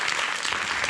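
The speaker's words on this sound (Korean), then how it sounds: "다시 한번 이희도 선생님께 큰 박수 부탁드립니다." A lecture audience at an artist's special talk bursts into dense, close applause, a short stretch of continuous clapping with no clear speech.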